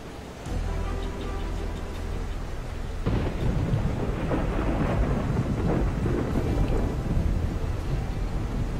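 In the Silent Hunter 4 submarine game, heavy rain hisses continuously while deep thunder rolls in, swelling louder partway through and rumbling on under the downpour.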